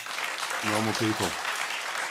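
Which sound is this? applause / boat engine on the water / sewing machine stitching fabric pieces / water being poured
applause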